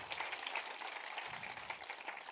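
Church congregation clapping in praise, a steady, fairly quiet patter of applause from a room full of people, continuing evenly for a couple of seconds.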